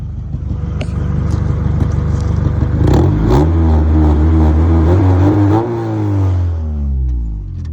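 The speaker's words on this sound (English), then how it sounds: "Alright, so I just got home and I got an exhaust leak." An Acura Integra engine with an exhaust leak, likely at the header joint, runs loud and close, rising as it revs with a rough clattering rasp before easing back to a steady idle.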